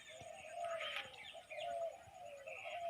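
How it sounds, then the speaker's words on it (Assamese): A dove coos repeatedly in soft, rhythmic phrases near a ripe rice field, moderately distant, with faint chirps from other birds and no voices. "কুপচাই ধুনীয়া এটা শব্দত চিঞৰি আছে"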